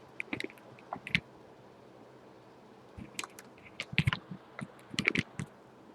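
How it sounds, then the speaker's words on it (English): Tarot cards are shuffled close by, with quiet bursts of riffling clicks separated by short silent pauses. "So sorry for the silence while I shuffle."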